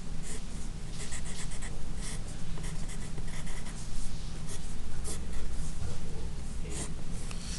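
Pen or marker scratching steadily across paper while a circuit diagram of resistors and a capacitor is drawn by hand, a close, continuous writing sound with short strokes and pauses, no talking.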